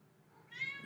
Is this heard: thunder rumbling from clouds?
no